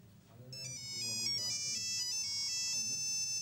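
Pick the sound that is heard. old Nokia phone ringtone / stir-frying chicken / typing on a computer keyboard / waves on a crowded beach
old Nokia phone ringtone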